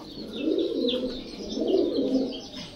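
A large ten-year-old racing pigeon coos in repeated low, rolling phrases, close and fairly steady, with no other sounds around it.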